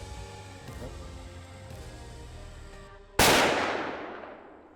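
A single loud rifle shot firing a standard .308 round, 150 grain soft point, a sharp crack that rings out and fades over about a second and a half, after a few seconds of quiet, low background.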